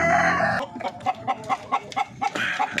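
Chickens in a coop give a run of short, rhythmic clucks, close and clear, after a brief louder crowing-like call at the start.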